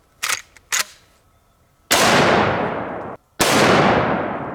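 Two loud, sharp gunshots from a Henry all-weather lever-action 45-70 rifle firing 300-grain jacketed soft-point loads, each a hard crack with a long ringing decay, preceded by faint clicks of the lever action.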